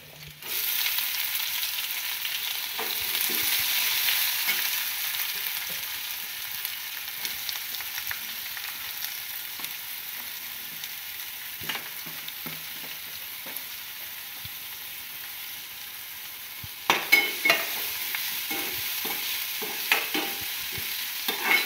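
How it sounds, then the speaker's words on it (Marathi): Garlic and onion frying in hot oil in a pan for an eggplant curry, a steady soft sizzle running throughout with occasional stirring scrapes and louder crackles near the end. "आपले लसूण लाल झाले, आपण त्यात कांदा टाकूया।"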